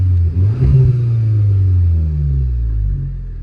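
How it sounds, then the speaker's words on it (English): A modified 2015 Audi S3 Quattro with a stage 1 remap to 350 bhp revs hard up close, a loud throaty rise with crackles that settles back into a deep, rumbling idle. "If you've got an ounce of petrol pumping through your veins, you'll love that sound."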